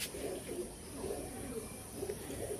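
Pigeons of the Antikais long-distance flying breed, including green-eyed birds, coo in soft repeating rolls, several low purring phrases in steady succession, fairly faint against a constant background hiss.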